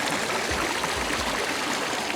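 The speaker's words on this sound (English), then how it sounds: "what really is the jewel of the backyard is these water features" Water from a backyard koi pond's water features trickles and splashes continuously in a full, steady wash with some low gurgling, close by and with no talk over it.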